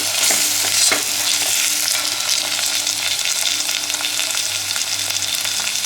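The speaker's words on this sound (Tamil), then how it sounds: "தக்காளி இது நல்லா குழஞ்சி வேகட்டும்" Onions and tomato sautéing in a pan, a loud continuous sizzle with frequent stirring scrapes and clatters of a spoon, close up and without talk.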